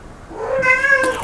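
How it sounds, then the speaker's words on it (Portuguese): A house cat gives a single clear, drawn-out meow, rising then falling, fairly loud and close with faint room noise behind. "o meu gato está miando"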